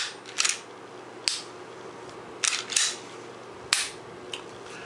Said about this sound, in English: hold your finger on the trigger, rack the slide, make sure the reset's there